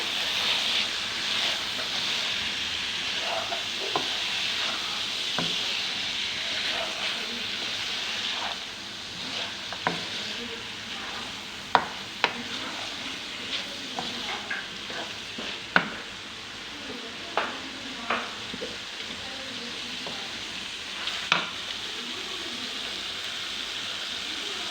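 Boiled mash dal mixed into fried chicken in a pot, a soft continuous sizzle with repeated scraping strokes and occasional sharp clinks of the spoon against the pot, close and steady.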